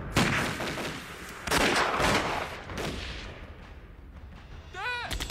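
War film battle scene with dense gunfire: loud bursts and volleys of shots and blasts crowd one another, and a shouted voice cuts in near the end.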